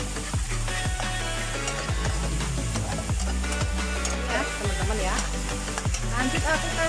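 Egg and tomato fry in a pan with seasoning stirred in, a constant loud sizzle broken by repeated scraping and clacking of the utensil against the pan in an uneven rhythm, with no voice heard.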